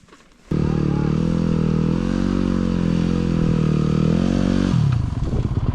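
Motorbike engine catching after a brief quiet start, then running steadily at a loud, close, throbbing idle with a slight rev near the end before dropping off.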